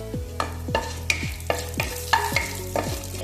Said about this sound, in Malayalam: കുറച്ച് ഉഴുന്ന് പരിപ്പ് ഒരു അര ടീസ്പൂൺ ഉഴുന്ന് പരിപ്പ് ഇട്ട് കൊടുക്കാം നല്ല ലോ ഫ്ലെയിമിൽ വെക്കണേ